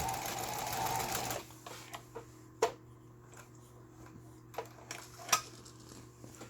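A Taiwan-made Jaguar home sewing machine, just repaired, runs a fast stitching burst for about a second and a half, then stops. Only scattered light mechanical clicks and taps follow in a quiet room.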